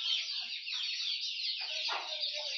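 Village chickens at a poultry farm clucking and calling close by, a dense continuous chorus of overlapping bird sounds with no talking.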